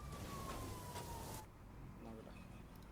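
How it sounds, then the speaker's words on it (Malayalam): A wailing ambulance siren in a video game holds a steady tone for about a second and a half under a dense, loud mix of game noise, then cuts off abruptly. "ആംബുലൻസ് സൗണ്ട് ഒന്നും അത് എനിക്കൊന്നും ചെയ്യാൻ പറ്റത്തില്ലടാ"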